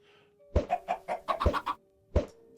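Chickens cluck in Minecraft, a quick run of six or seven short, closely spaced clucks followed by a lone cluck after a pause, near and fairly clear with a steady tone underneath.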